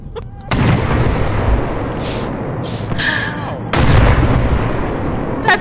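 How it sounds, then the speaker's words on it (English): Heavy, sustained booms and blasts of mortar fire in a war video game, loud and close, with a second burst landing near the end and faint voices under the barrage. "That's coming from the Mortar Squad!"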